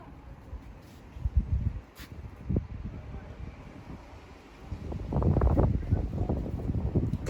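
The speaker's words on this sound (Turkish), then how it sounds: "Ay rüzgar da var." Wind buffeting a microphone in the town centre of Krefeld, Germany, a low rumbling roar that comes and goes, swelling strongest toward the end.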